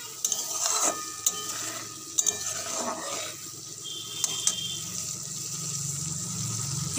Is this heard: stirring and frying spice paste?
yes